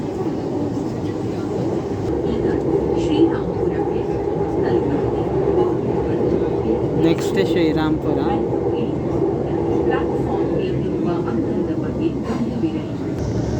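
A Bangalore metro train pulls into Srirampura station, a steady loud rumble of wheels and motor running throughout with brief higher squeals near the middle, while a person talks over it.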